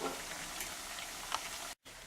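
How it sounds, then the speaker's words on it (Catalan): Soft, steady sizzling of potatoes frying in hot oil, quiet and continuous with faint crackles. "Ara posarem les patates a fregir."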